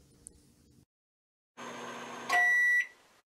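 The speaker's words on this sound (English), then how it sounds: "he's going to microwave the filler for about 15 seconds to make it softer and easier to work with." A microwave oven heats automotive body filler during a 1930 Ford Model A repaint, running with a steady hum and then ending with a loud electronic beep tone, heard alone after a brief quiet gap.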